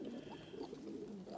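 A female foster pigeon, kept in among the young squabs, gives a soft, low, continuous cooing, faint and close, with no other sound over it.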